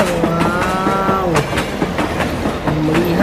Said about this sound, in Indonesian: Wow, kereta ini berangkat lagi teman-teman.